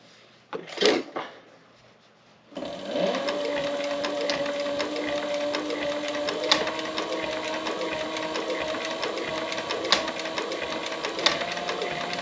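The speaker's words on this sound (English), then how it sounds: "normally I would not really sew this thin on my Cobra" A Cobra class 4 leather sewing machine stitches taped leather for a weight bag. After a couple of brief knocks, it runs in a steady, close, continuous mechanical chatter with occasional sharper clacks.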